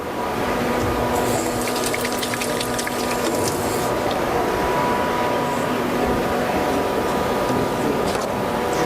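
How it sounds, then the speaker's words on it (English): Hands are rinsed under running water from a tap, a steady close rush that continues without a break, with some brief clinks and rattles early on. "Let me just rinse my hands off."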